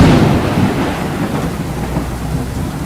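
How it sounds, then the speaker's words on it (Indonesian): Heavy rain pours steadily at night with deep rumbling thunder rolling underneath, a dense, loud wash of sound with no voices. "tapi hujan masih saja lebat"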